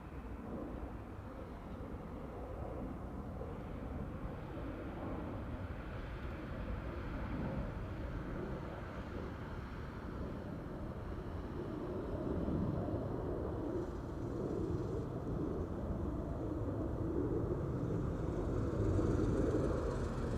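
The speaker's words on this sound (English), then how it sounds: "That was one of United's 767s." A United Boeing 767 airliner departs Amsterdam Schiphol, a broad, steady low roar of jet engines that swells gradually louder toward the end, heard from a distance without any voices.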